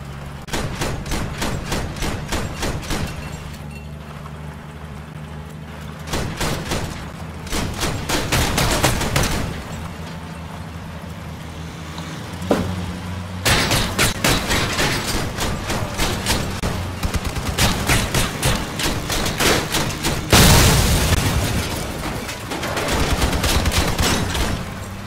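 Vehicle-mounted guns fire in the game Crossout, with loud rapid bursts of automatic gunfire repeating in long volleys and short pauses between them. A few heavier thumps are mixed in.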